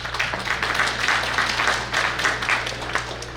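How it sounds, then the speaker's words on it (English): Audience applause at a spring brunch banquet, a dense, steady wash of many hands clapping throughout, moderately loud over a constant low room hum. "So how about another round of applause for Zahid?"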